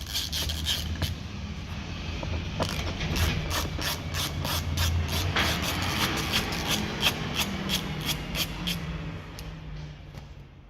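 A ratchet undoes T20 Torx screws on the front arch liner of a 2006-2012 Renault Clio 3, rapid close clicking with steady rubbing and grinding underneath, no talking.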